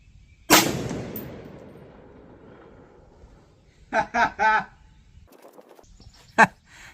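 One loud rifle gunshot during a OneLeaf NV400 night vision scope test cracks close by and decays over a couple of seconds, followed by brief speech and a sharp click.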